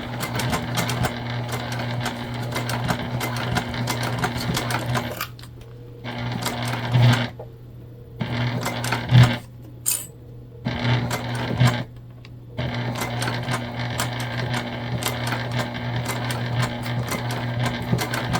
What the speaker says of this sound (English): And we're just basting together right now.